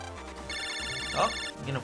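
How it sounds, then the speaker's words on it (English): A phone call rings in the video game Mega Man Battle Network 6, an electronic ringtone of repeated tonal beeps that starts partway in, with a voice speaking underneath and afterward. "Oh, getting a phone call."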